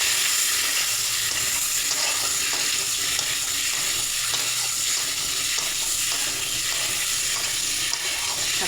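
Tengra fish is sautéed in hot oil in a pan, giving a steady, close, dense sizzle that continues unbroken throughout with no talking.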